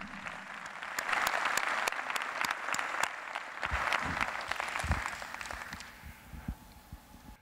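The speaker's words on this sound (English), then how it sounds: "So I'd like to give her a round of applause." Audience applause at a surgeons' charity fashion show, a steady wash of clapping from a sizable crowd with some sharp individual claps standing out, thinning toward the end.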